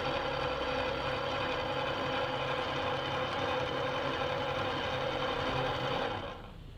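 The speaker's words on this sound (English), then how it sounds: "you're gonna turn the grinder on and stabilize the light" A conical burr coffee grinder runs with a loud, steady motor whir and dense grinding rasp for several seconds, then winds down as it is switched off near the end.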